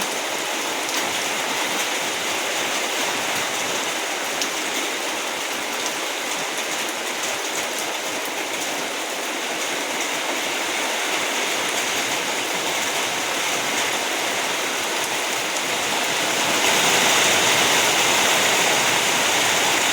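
Rain falls steadily as a dense, even hiss for twenty seconds, loud and close with no pauses, swelling slightly heavier near the end.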